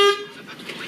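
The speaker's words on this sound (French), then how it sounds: "pèse le klaxon" A car horn gives one short, loud toot at the very start, then cuts off and leaves faint street noise behind it.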